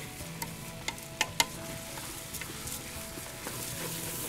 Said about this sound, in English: as you scrape your pot, you'll have a little bit of rice start to stick to the center